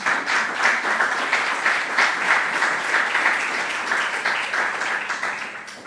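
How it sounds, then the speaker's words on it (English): An audience at the African BCE Summit, a circular economy conference, applauds steadily, a moderately loud crowd of clapping hands that stays even before trailing off slightly at the end. "I think you should clap for all the circular economy builders."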